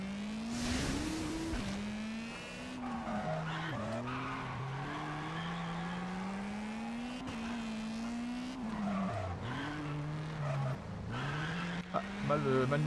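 Rally car in V-Rally 4 skidding through donuts, tires squealing and engine revving steadily with sweeping pitch changes, loud and close, while someone comments over it.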